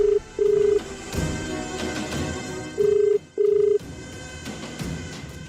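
A telephone rings twice in a double pulse, a pause, then another double pulse, the steady tones sounding clear over a low background murmur.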